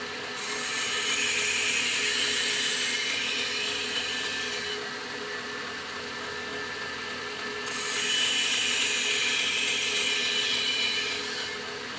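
A knife blade scrapes in repeated long strokes across a sharpening stone. The gritty rasp is steady and fairly close, and it swells in two main passes.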